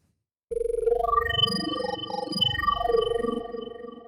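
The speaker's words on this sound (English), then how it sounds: "In the case of this patch, I've used a wavetable that I've sampled from my virus." A sustained Pigments 6 synthesizer tone from a wavetable sampled from a Virus synth, with a bright, glassy harmonic texture that shifts and sweeps in pitch, starting after a short silence and holding steady throughout.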